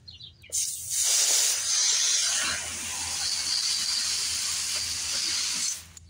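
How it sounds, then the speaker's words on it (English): Garden hose spraying water onto tomato and avocado plants, a steady close hiss that starts abruptly, holds for about five seconds, then stops. "Turn on the hose."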